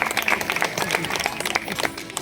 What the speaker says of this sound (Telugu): ఒక్కసారి అందరూ గట్టిగా చప్పట్లు కొట్టండి